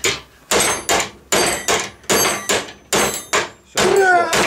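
A hammer striking a Tokoz 112 padlock during a break-in crash test, delivering eight loud, evenly spaced metallic blows about half a second apart, each ringing briefly before the next, close up and with no talk over them.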